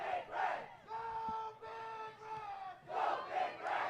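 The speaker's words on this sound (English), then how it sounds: "All the noise you're hearing from the boys team." A boys soccer team chants and cheers from the sideline at a high school girls soccer game, with rhythmic massed voices swelling and falling in waves, heard through a crowd mic.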